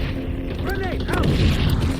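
A grenade explodes in the XDefiant shooter game, a brief heavy boom with a rumbling tail, close and loud, mixed with battlefield clatter and a fragment of voice.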